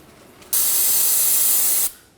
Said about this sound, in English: Let's use some parts cleaner on a rag